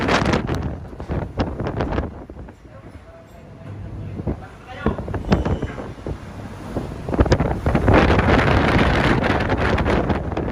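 Strong wind buffets the microphone aboard a ship on a rough Pacific Ocean in bad weather, with gusting roars, crashing surges and low engine rumble, while voices talk intermittently over the noise.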